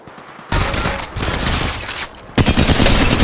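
Sustained bursts of rapid automatic gunfire rattle loudly in Apex Legends gameplay, with a brief drop between two dense volleys.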